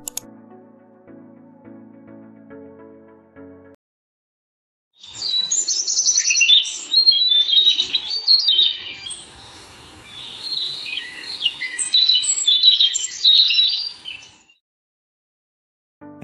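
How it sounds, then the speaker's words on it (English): Generated morning birdsong in a forest: after a few seconds of soft low sound, bright busy chirps and tweets fill about ten seconds, rising and easing in waves before stopping abruptly. "morning birds chirping with gentle wind through the forest, relaxing and natural"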